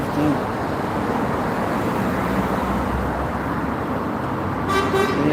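An Alexander Enviro400 MMC long-wheelbase bus pulling into a stop in Gloucester, a steady engine rumble amid road traffic, with a brief horn toot near the end and people talking nearby.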